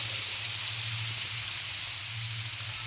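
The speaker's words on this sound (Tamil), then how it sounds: "ரியல் இந்த மாதிரி மழை சவுண்டு கேட்குது." Rain in a Roblox game, a steady hissing downpour with an even, continuous wash of noise and a low hum underneath, no distinct drops standing out.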